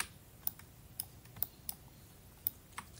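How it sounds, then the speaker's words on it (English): Sharp, isolated key clicks on a computer keyboard, about seven separate taps spaced irregularly over a quiet room hum, close and fairly faint, with no talking. "Select all, press tab key."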